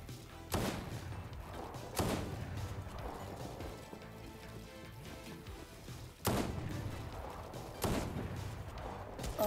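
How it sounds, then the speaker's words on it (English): Gunshots in Fortnite: four or five loud, separate sharp bangs spaced a second or more apart over a busy, low game backdrop. "he keeps shooting me down"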